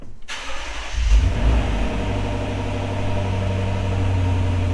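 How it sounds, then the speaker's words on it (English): A 2023 Lexus IS500 F Sport V8 engine cranks and fires up after a brief quiet moment, then settles into a deep, steady idle rumble, loud and close. "I'll give you a very quick startup here."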